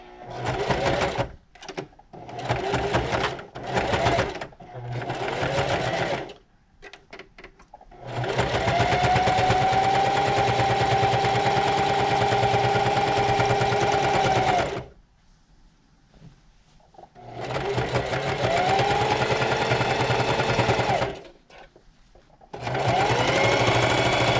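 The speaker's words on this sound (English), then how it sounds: "I'm gonna run it through my sewing machine" A sewing machine stitches fabric in loud, steady whirring bursts that start and stop repeatedly, with short silent pauses between runs and one longer sustained run.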